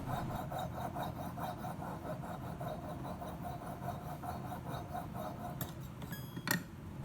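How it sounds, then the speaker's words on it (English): Metal tubing being sawed while clamped in a tubing cutting jig for riveting, a steady close rasping back-and-forth stroke throughout, with a couple of sharp metallic clicks near the end. "I'm using a special tubing cutting jig to help keep the tubing from turning as I saw it"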